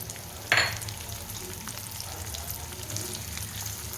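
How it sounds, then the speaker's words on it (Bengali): Fried potatoes sizzle in a pan with a sharp, loud hiss as ground spices, turmeric, sugar and salt are tipped in. The burst quickly settles into a quieter, steady crackle of frying, with faint stirring scrapes. "এই আলু ভাজার মধ্যে মশলাগুলো সব দিয়ে দিচ্ছি"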